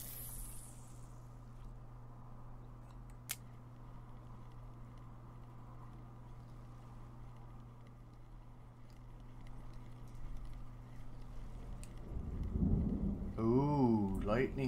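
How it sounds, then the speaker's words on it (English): A thunderstorm with rain in the fishing game Russian Fishing 4: a low steady rumble under light rain with a sharp crack or two, then thunder builds and someone speaks over it near the end. "Ooh, lightning storm."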